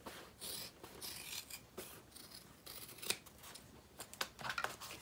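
Close scissors snip through the excess end of a hidden zipper on a leather foldover clutch, giving a run of crisp, scratchy cuts with irregular rhythm and a few sharper snaps, with no talking.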